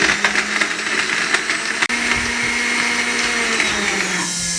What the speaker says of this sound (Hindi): यहाँ पे ले आए, इसको हम 2 मिनट तक ग्राइंड करेंगे।